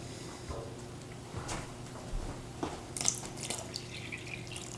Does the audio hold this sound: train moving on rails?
no